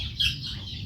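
A farm duck gives a single short, nasal call over low background rumble, heard briefly and fairly close.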